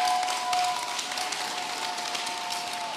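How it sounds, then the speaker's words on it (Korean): An audience at a Buddhist expo talk applauds a monk, a steady wash of many hands clapping, continuous and moderately loud with a faint tone running underneath. "우리 스님께 다시 한번 큰 박수 부탁드리겠습니다."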